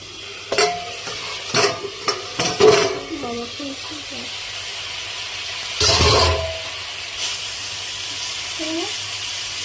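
A spoon stirs peas cooking in a pan, scraping and clattering in bursts over the first few seconds, then a louder scrape; a soft sizzle runs underneath, with quieter pauses between the stirs.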